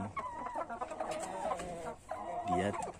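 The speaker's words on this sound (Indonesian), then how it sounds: "Berbeda halnya dengan ayam kampung asli seperti ini" A native Indonesian village chicken (ayam kampung) clucks repeatedly up close in a farmyard, a continuous run of throaty calls with no talk over it.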